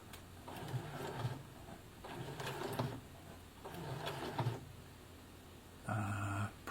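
A Brother FS60X sewing machine stitches a denim jeans hem in several short mechanical bursts, pausing between runs, with a louder final burst at the end.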